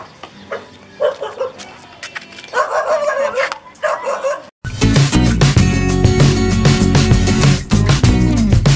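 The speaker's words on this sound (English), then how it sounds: "There's a dog coming up at this house and she don't care much for it." A dog barks and yips near a house in a Philippine barangay at sunrise, sharp bursts over outdoor background, then a loud music-like section takes over in the second half.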